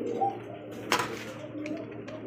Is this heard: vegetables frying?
no